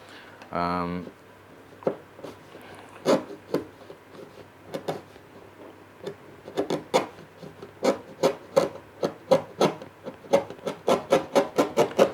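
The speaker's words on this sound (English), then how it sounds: "As you can see, the paint comes off fairly easy off the substrate that's been applied." Paint being scraped off a Lotus Elan S4 body with a hand scraper: a run of short, dry rasping strokes, sparse at first, then quickening into a steady rhythmic series of close, fairly loud scrapes.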